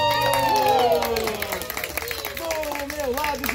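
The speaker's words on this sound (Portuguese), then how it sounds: "Palmas pro Tortuguito" Clapping and cheering from a crowd with children at a turtle race on a small farm, heard under a loud amplified announcer's voice that dominates the stretch.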